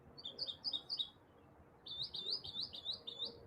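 Pet bird chirping indoors, two quick runs of bright repeated tweets separated by a short pause, fairly faint over low room noise with no talk.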